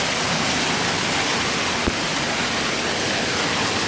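A steady, loud roar of heavy rain floods a yard, with continuous dense splashing close by and one brief knock partway through.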